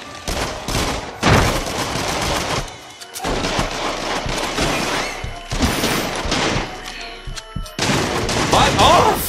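Rapid bursts of gunfire from the VR shooter Until Dawn: Rush of Blood, loud repeated shots in clusters with short gaps, as players talk over the action.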